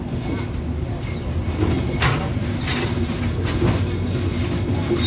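The Rupsha intercity train in Bangladesh gives a steady rolling rumble with rhythmic clatter of wheels over rail joints and a few sharper knocks, heard continuously and fairly close.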